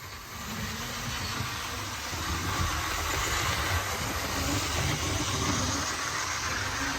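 A model train engine on a home-built layout runs steadily across track cuts on the middle line, giving a continuous low motor hum and rumble at even loudness with no voices.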